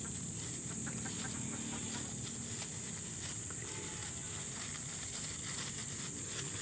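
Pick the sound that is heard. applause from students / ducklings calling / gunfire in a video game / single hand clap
ducklings calling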